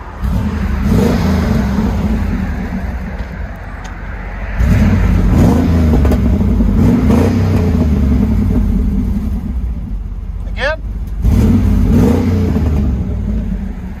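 A 1996 Chevy Silverado 5.7L V8 with dual exhaust, X-pipe and Borla Pro-XS mufflers revs repeatedly, deep and rumbling, loud and close, with surges and lulls between the bursts.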